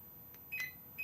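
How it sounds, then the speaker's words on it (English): Alarm fob for an Elddis Supreme 574 caravan alarm giving short high electronic chirps, two quick faint beeps half a second apart over quiet background. "It is just press the button and you will get 1 chirp for armed"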